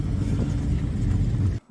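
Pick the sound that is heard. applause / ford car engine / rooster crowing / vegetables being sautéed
ford car engine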